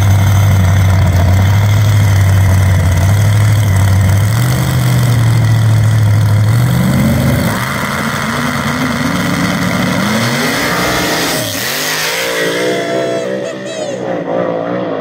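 A big-tire drag racing car at an eighth-mile grudge race idles with a loud, lumpy low rumble, then revs up in rising surges before easing off, with crowd noise and some voices in the background.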